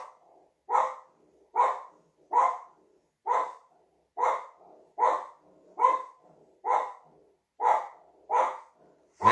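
A dog barks repeatedly in a steady rhythm, about a dozen loud, evenly spaced barks with short pauses between them, close to the microphone.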